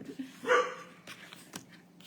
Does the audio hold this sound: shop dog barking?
yes